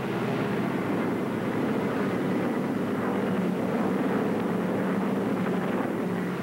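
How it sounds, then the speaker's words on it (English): Radial piston engines of a C-47 tug aircraft on its base leg during a glider pickup, a loud steady drone that holds throughout with a constant rumbling roar, alone with no talk. "The pilot of the tug, now on its base leg, increases RPM to 2550."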